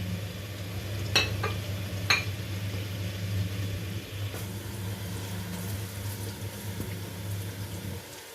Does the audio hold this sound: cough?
no